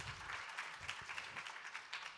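Short burst of audience applause at an indoor event, many hands clapping in a dense, steady patter at moderate distance.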